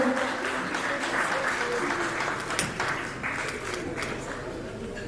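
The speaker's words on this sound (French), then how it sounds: "Bravo, on l'applaudit." Sustained applause from an audience at an arts and culture gala in Marrakech, a dense wash of clapping that holds steady throughout.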